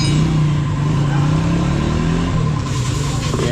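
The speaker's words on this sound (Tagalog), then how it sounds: "so bali pinandar na rin namin yung makina" A Honda Click scooter engine idles steadily after starting, fitted with a new radiator; a loud, close, continuous low rumble with no talk over it.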